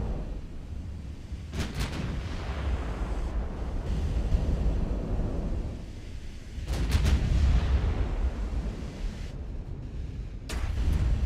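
Heavy naval gunfire from 13-inch warship guns in a dreadnought battle game: deep booming salvos roll out over a constant wind-and-sea rumble, with sharp blast peaks around two, seven and ten seconds followed by long fading echoes.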